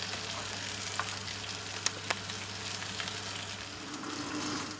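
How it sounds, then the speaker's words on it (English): Snapper fries in hot oil in a deep frying pan with a continuous low crackling sizzle, a steady hum underneath and a couple of sharp pops or clicks, no voices present. "I've just heated some oil in a sort of a deeper frying pan, and we're getting the snapper all fried up as well"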